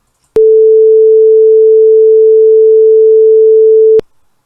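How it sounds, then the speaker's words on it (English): A steady 440 Hz electronic tone at middle A sustains alone for almost four seconds, pure and organ-like, starting and stopping abruptly with small clicks and staying loud and unwavering throughout. "It sounds like middle A or A4 as a pipe organ might play it."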